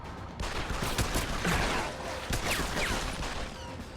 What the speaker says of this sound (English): I'm only shooting at a paramilitary company.